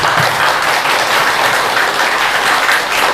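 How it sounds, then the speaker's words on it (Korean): A large audience at a temple hall dedication ceremony applauds a monk, steady loud clapping continuing without a break throughout. "우리 보광스님을 위해서 그동안 고생한 데에 격려에 큰 박수 부탁드려요"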